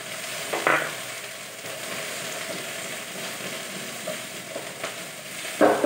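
Garlic and onion crackle and sizzle in a hot pan, a steady broadband fry with a couple of brief louder bursts as ingredients drop in, fairly close and without talk.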